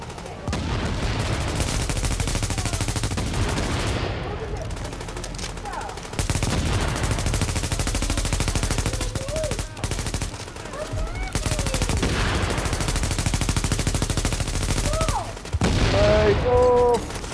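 Dense, continuous gunfire and explosive carpet bombing from an airstrike in a shooter video game, loud and sustained with sharp bursts of shots and heavy blasts, brief lulls, and people talking excitedly over the chaos.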